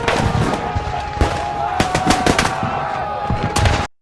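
A Civil War rifle volley at Fredericksburg crackles as dense, continuous gunfire with sharp individual reports scattered through it, loud and sustained before cutting off abruptly.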